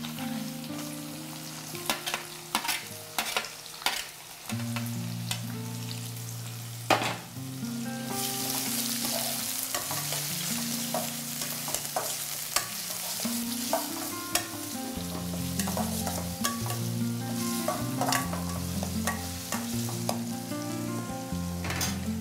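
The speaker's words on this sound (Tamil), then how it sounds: "வெங்காயம் வந்துட்டு நல்லா ஃப்ரை ஆகட்டும்." Onions sizzle and fry in a pan for a Tamil dish, a steady hiss with occasional stirring scrapes, heard beneath background music.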